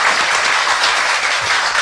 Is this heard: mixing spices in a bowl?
no